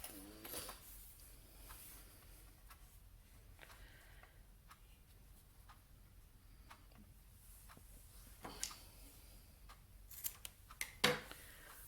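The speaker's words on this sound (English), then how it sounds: "I'm going to cut this cord down to 9 inches" Scissors cut through number 4 cord, making quiet, sparse clicks and snips over a hushed room, with a few sharper, louder cuts clustered near the end.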